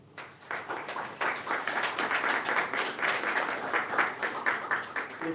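An audience breaks into warm applause welcoming a homeopathy speaker, Dr. S. B. Dangayach, at a motivational talk, the clapping swelling from a quiet start into a dense, sustained round.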